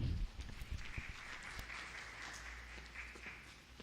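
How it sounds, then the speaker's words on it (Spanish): An audience at a medical conference on anesthesia gives applause, a modest patter of clapping from a small room after a brief low thump at the start, fairly quiet and thinning out toward the end. "Le damos la bienvenida con un fuerte aplauso"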